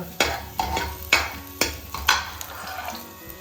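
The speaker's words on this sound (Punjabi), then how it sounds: "ਤੇਲ ਗਰਮ ਹੋ ਗਿਆ ਹੁਣ ਆਪਾਂ ਪਾਵਾਂਗੇ ਇਹਦੇ 'ਚ ਲਸਣ" Garlic goes into hot oil in a pan for rasam, giving a steady sizzle under a run of sharp, rhythmic utensil clacks against the pan, close and fairly loud.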